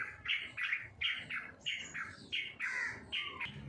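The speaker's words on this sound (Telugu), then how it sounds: "పక్షుల సౌండ్స్ వినపడుతున్నాయి" Birds squawk and chirp in a natural outdoor setting, a steady run of short, fairly close calls repeating about every half second over a faint background hum.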